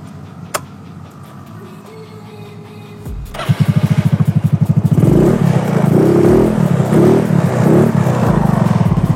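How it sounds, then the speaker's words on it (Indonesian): A restored and modified Yamaha Mio scooter sits quietly with small clicks and faint noises, then its engine fires up suddenly and idles loudly close by with a fast, even putter, blipping the throttle a few times. "Kita langsung tes di bagian motornya"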